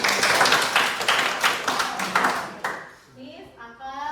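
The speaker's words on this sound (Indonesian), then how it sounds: "Oke, tepuk tangan untuk Ari dan Monica." A classroom of students clapping together, a burst of dense hand claps lasting a couple of seconds before fading, with a voice speaking over the end.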